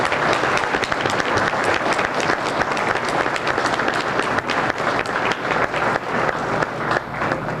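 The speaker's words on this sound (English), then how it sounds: "I'd like to give the kitchen staff a nice round of applause for this wonderful" Steady, loud applause from a banquet audience thanking the kitchen staff after dinner, dense clapping sustained throughout with a faint murmur of voices beneath.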